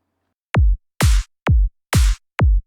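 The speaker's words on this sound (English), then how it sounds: "And we are adding the clap on every second beat." Trance drop beat of five punchy electronic kick drums in a steady rhythm, with a bright noisy electronic clap layered on every second beat, loud and alone.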